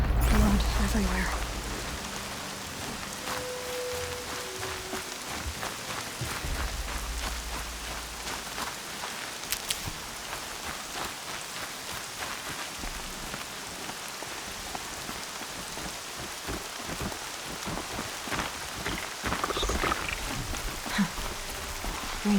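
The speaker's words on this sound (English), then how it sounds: "Rain's not so bad." Steady rain pattering on surfaces in the game Horizon Zero Dawn, a continuous close wash of drops with a few low rumbles and scattered game sounds.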